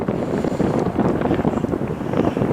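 Strong wind buffeting the microphone on a mountain viewpoint in March, a loud, continuous gusty roar with no voices.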